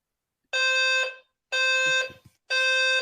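A fire alarm sounds three loud, harsh electronic beeps, each about half a second long, spaced evenly about a second apart, with faint low rustling between the second and third beeps.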